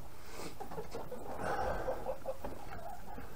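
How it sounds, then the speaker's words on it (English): Chickens on a farm, around their coop and run, cluck softly in the background, with a fowl's call rising briefly in the middle over a low, steady outdoor hiss and no talk. "So again, some more chickens on this side."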